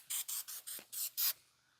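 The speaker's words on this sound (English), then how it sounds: "I'll go ahead and use the paint prep spray too" Six short, hissing bursts from an aerosol paint prep spray can on a car, evenly spaced and close, with the last burst slightly longer, then quiet.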